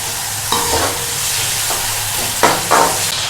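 Onions browning in ghee or cooking oil for Lahori paya curry, a loud steady frying hiss broken by a few bursts of stirring scrapes, heard up close without speech.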